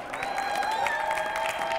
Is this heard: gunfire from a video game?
no